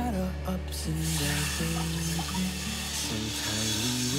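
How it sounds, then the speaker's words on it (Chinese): Water poured into a small pan of curry sauce after curry powder is fried in oil, a broad steady hiss and wash running the whole time beneath louder background music. "现在放入150cc 的水"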